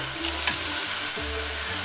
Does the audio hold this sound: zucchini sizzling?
yes